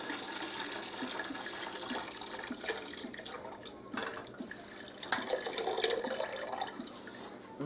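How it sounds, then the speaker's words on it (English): Tap water running steadily into a cooking pot holding chicken broth for chicken and dumplings, a soft continuous splashing stream at moderate distance with small bubbling variations. "I'm going to fill this baby up with water"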